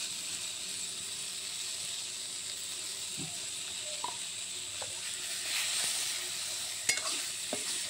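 Aloo begun, potato and eggplant with turmeric, stirred in a hot pan: a steady sizzling hiss throughout, with a few faint scrapes and taps of the spoon against the pan.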